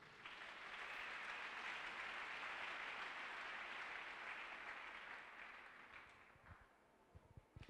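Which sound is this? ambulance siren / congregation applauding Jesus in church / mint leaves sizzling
congregation applauding Jesus in church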